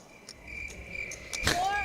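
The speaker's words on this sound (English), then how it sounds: "The crickets are always out late." Crickets chirp late at night in a steady, high, continuous trill close by, broken by faint clicks and a brief rustle near the end.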